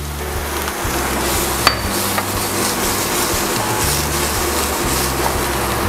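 Garlic frying in hot oil for ginisang monggo, a continuous crackling sizzle broken by a few sharp utensil knocks against the pan, close up and with no talking.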